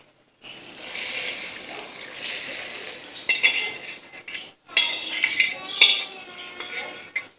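Hot oil from browning onions is poured into a pot of biryani rice, giving a loud steady sizzling hiss that breaks off briefly, returns, and carries some metal clinks.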